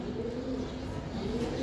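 A big Giribaz racing pigeon coos in low, throaty pulses, close and moderately loud, over steady background noise.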